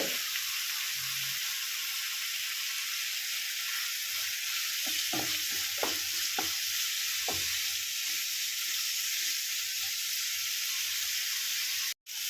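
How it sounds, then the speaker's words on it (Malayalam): Masala thinned with hot water, with roasted egg added, bubbles in a pan as a constant bright hiss, while a short run of spoon clacks sounds midway; no speech, and it cuts off abruptly. "ഈ മസാലയിലേക്ക് ഇനിയിപ്പോൾ ചൂടുവെള്ളമാണ് ഇച്ചിരി ഒഴിച്ചു കൊടുത്തത് അതും കൂടെ ഒന്ന് തിളപ്പിച്ചെടുക്കാം"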